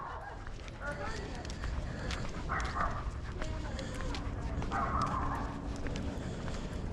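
Several dogs bark and yelp in short bursts amid a busy outdoor scene, with someone talking and calming them throughout.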